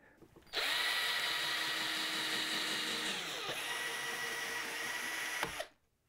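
A corded electric power tool used in wooden boat building whirs at a steady high pitch for about five seconds, starting abruptly and winding down at the end, loud and close with no talking.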